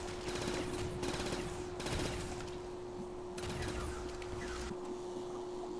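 Rapid automatic gunfire in a zombies video game, with dense bursts of repeated shots under a steady electronic hum that fade toward the end.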